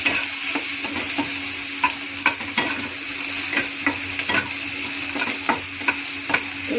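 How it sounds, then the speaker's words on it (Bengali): Onion frying in a pan while a utensil stirs it, a steady sizzle punctuated by regular sharp scraping knocks against the pan, close up with no voices. "পেঁয়াজটা দিয়ে একটু ভালো করে নেড়ে চেড়ে"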